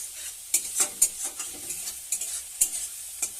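Spices with chili powder, turmeric and a splash of water being sautéed and stirred in a pan for a fish curry, heard as a low sizzle broken by clattering spatula strokes and bright metallic scrapes at an uneven pace.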